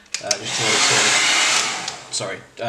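A heat tool blows steadily across a large homemade leather strop loaded with honing compound: a loud, continuous airy whoosh lasting about two seconds, framed by brief clicks and knocks as it switches on and off.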